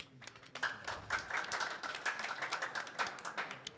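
Audience clapping at a government signing ceremony for a return-to-work agreement, a steady patter of many hands building quickly and holding, moderately close, with no speech over it.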